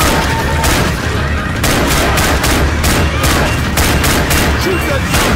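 Continuous loud video-game gunfire as survivors shoot zombies in Left 4 Dead 2, with dense, repeated rattling volleys and shots throughout and no pause.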